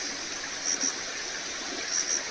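Water running over a road in a Himachal village during the rainy season gives a steady, fairly quiet broadband rush with no talk, holding even throughout.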